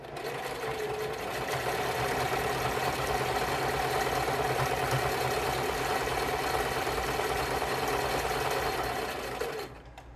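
A sewing machine stitches in a continuous fast, even run of mechanical chatter that holds steady, close and fairly quiet, before stopping abruptly at the end.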